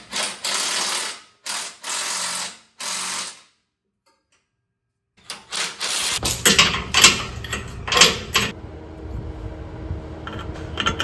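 Rapid ratchet clicking in three short bursts, a pause, then more ratcheting mixed with metallic clanks while bolts are tightened on Tesla motor mounts fitted in a VW bus.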